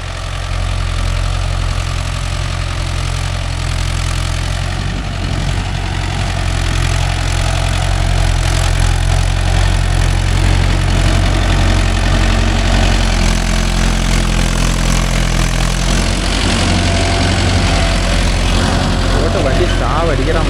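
A Mahindra Yuvo Tech Plus 585 4WD tractor with shuttle gear runs its engine steadily nearby, a loud, continuous low rumble that holds throughout with no breaks.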